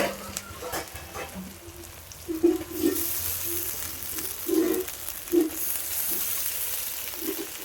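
Onions and ginger paste fry in a pan with a steady hissing sizzle that swells in places, with occasional stirring scrapes close by and no speech.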